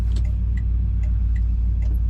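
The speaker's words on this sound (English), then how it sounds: "Both our blinker indicators are working." The turn signal of a 1965 Chevrolet Impala convertible ticks in a steady, even rhythm, with faint clicks heard over a constant low engine idle rumble inside the car.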